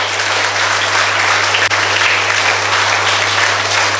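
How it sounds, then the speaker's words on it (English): A hall full of school students claps for themselves at a speech competition, producing a loud, continuous wash of applause with a steady low hum underneath. "So all of you clap for yourself."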